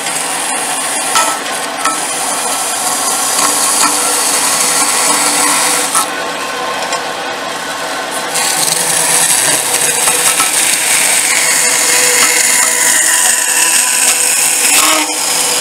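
A bandsaw slices through a forged steel fitting from a Greek kopis-inspired sword, giving a continuous loud, close grinding whine that shifts in pitch partway through, with no talking.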